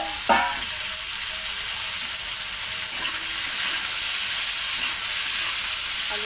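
Potatoes fry in a pan of hot oil for homemade chow mein, giving a steady close sizzle, with a brief clink of the spatula near the start as they are stirred.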